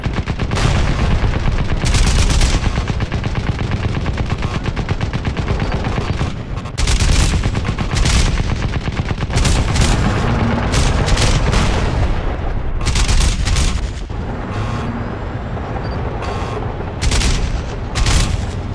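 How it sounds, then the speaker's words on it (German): Sustained gunfire in the shooter game Crysis Remastered, dense rapid automatic bursts with booming impacts, loud and nearly continuous for almost twenty seconds with brief pauses between volleys. "ich schieße gerade auf meine eigenen Leute"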